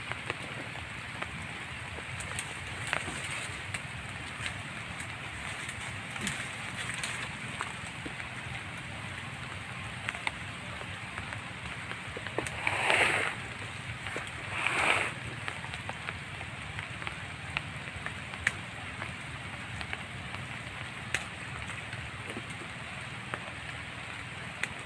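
Steady rain patters down in an outdoor setting, a soft even hiss with a couple of brief louder gusts of drops and no talking.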